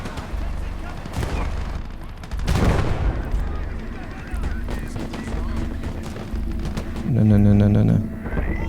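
An MG42 machine gun fires in the WWII game Gates of Hell: Liberation during a Utah Beach assault, heard as loud bursts over a steady battle din with booming blasts, while a voice talks over it.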